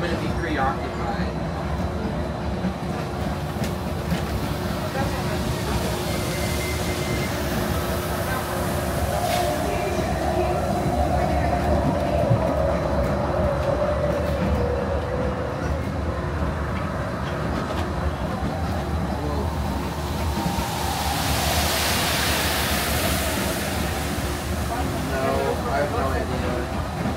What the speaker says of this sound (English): We're now approaching the Tomorrowland Monorail station, our final destination.